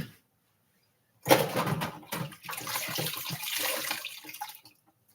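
A spray bottle of alcohol hisses in a few quick bursts, blending into one burst of about three seconds close to the microphone, with silence before and after.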